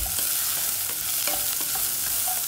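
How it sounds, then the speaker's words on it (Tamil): Onions fry in a pan for shrimp curry, a continuous close sizzle with rhythmic scraping stirs and small clicks of a spoon against the pan. "வெங்காயம் பதங்கி வந்துள்ளது"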